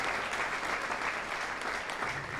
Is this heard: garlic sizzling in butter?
no